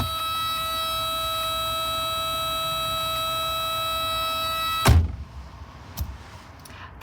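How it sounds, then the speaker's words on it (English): A continuous electronic warning chime rings steadily from a 1990s Proton Saga, sounding for keys left in the ignition, lights on or an open door, then cuts off abruptly, followed by a door thud and faint cabin noise. "That noise comes on if you've left your keys in the ignition"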